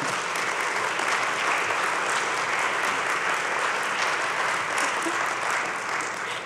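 Dense, continuous applause fills a large hall during a conference plenary session, a loud, even wash of many clapping hands that holds steady without pause.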